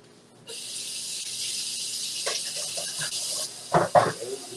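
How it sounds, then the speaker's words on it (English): Cold tap water runs in a steady hiss over a boiled potato in a home kitchen sink, with a few splashes and knocks near the end. "I like to run some cold water over the potato, just so I don't burn my hands"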